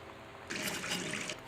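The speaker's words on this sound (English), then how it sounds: "Oh, it's the sound of the faucet. Like, the knob." A faucet in a house bathroom in the game Gone Home runs in a steady hissing gush of water for about a second, starting abruptly after a quiet moment and cutting off cleanly, with no talk.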